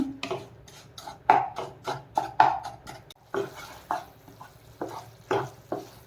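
A spoon stirs jaggery melting in ghee in a pan, a sweet for a Nagara Panchami offering, giving repeated scraping strokes in an uneven rhythm with a soft sizzle beneath, close and moderately loud, with no talk.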